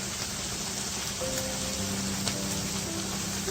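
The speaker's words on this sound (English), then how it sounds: "we're going to pour in some of the cream" Cream pouring into a pan of mushroom ragu for pasta alla boscaiola, a steady soft liquid patter and sizzle running throughout the few seconds without any talk.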